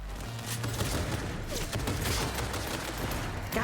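Dense, continuous gunfire in the video game Cyberpunk 2077 Phantom Liberty, a loud sustained barrage of rapid shots with no pause.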